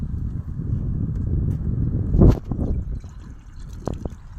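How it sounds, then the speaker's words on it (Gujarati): Drinking water is poured out on a farm, a soft trickle rising to a brief louder splash near the middle, then a few faint drips, close and with no talk. "તો રમેશભાઈને થોડુંક પાણી પાઈ દઈ, તરસ્યા થઈ ગયા છે."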